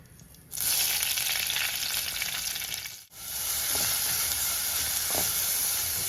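A sudden loud sizzle bursts up as soaked raisins hit hot coconut oil, then crackles and hisses steadily, briefly dipping before continuing.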